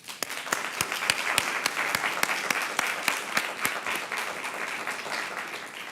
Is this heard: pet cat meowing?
no